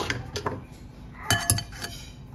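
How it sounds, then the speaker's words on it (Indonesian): Batter being strained through a metal sieve: a few light metallic clinks and taps, close and fairly quiet, spaced irregularly. "selanjutnya ini akan saya saring"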